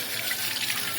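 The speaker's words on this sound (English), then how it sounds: "So what we're going to do is rinse our hair very thoroughly." Tepid water runs steadily while hair is rinsed thoroughly, a continuous close splashing wash with no pauses.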